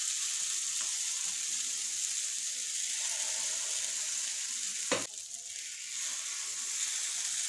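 Rice appe batter sizzles steadily in a hot appe pan as it is poured in small amounts, a continuous bright hiss with one sharp clink of a utensil partway through, no talking.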